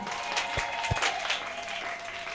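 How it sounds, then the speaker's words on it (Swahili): A church congregation breaks into applause for Jesus, a dense wash of hand clapping with a few sharper claps standing out, steady and fairly close for a couple of seconds. "Pigie Yesu makofi."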